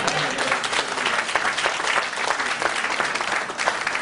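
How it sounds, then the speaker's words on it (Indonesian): A church congregation bursts into applause, a dense, steady clapping from many hands that holds at an even level throughout, with no talking over it. "berikan tepuk tangan"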